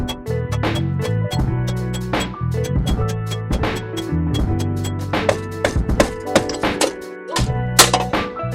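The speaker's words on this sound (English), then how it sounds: "So yeah, after all that, now I can actually just remove the rear wheel bearing." Steady run of metallic knocks and clanks from work on a Mazda CX5 rear wheel bearing, close and fairly loud, with irregular sharp taps over a droning background and no talking.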